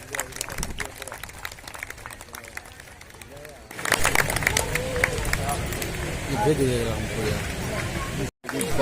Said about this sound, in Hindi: सभी लोग तालियां बजाकर स्वागत करें।